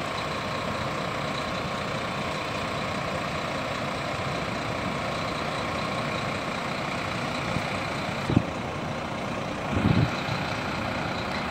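An Irizar i6 Volvo coach idles at an interstate bus station, a steady low diesel rumble with a hiss and two brief thumps near the end, as from air brakes or doors.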